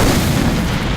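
Gunfire in the video game Left 4 Dead 2, a dense one-second blast of loud booming shots that fills the whole moment, close and harsh without speech.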